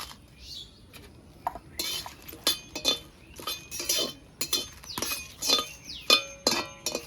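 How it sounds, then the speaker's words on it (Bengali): Bay leaves and dried red chillies dry-roasting in a wok, heard mostly as a fast run of bright metallic clinks and scrapes from a utensil stirring against the pan, close and irregular. "প্রথমে তেজপাতা আর শুকনো লঙ্কাটা ভেজে নেব।"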